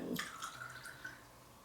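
Water trickles and drips into a glass of Stroh 160 proof spiced rum, a short splashy pour that fades into soft dribbling, quiet and close.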